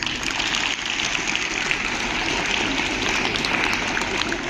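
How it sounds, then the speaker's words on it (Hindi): A crowd of school students clapping for themselves at a school gathering, a dense, steady wash of applause that holds evenly throughout. "तो पहले जो स्कूल वाले हैं अपने लिए ताली बजाओ"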